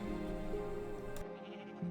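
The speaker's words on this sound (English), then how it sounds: "let's get some leads. So then we can move over the sheep into our area." A sheep in the Minecraft video game gives a sustained, nasal bleat, loud and close, over a faint tonal background that cuts out near the end as a second bleat begins.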